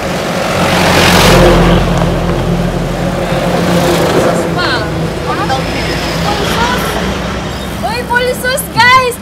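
A motor vehicle passes close on a road in Tayug, Pangasinan during a group bicycle fun ride, its engine swelling then fading, while riders talk and shout nearby.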